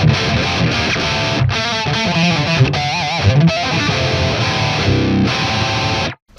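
Loud, heavily distorted electric guitar through an STL Tones AmpHub amp simulator plugin, sounding like a dual rectifier amp, playing chugging riffs and sustained chords, ending abruptly in silence.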